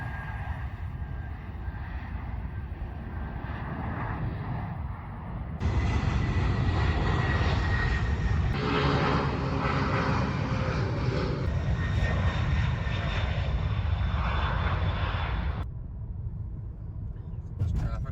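An airplane engine drones overhead in Memphis, swelling louder midway and then fading, with traffic noise in the background.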